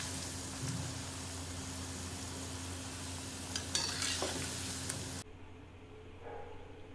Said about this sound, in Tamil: இது வந்த கேஸ் மீடியம்ல வச்சி ஃப்ரை பண்ணிக்கோங்க நல்ல முருகலா ஃப்ரை பண்ணிக்கோங்க